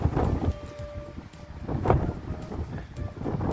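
Steady wind gusts buffet the microphone with a continuous low rumble and roar, rising and falling slightly throughout, outside a villa near the sea in Didim, Turkey.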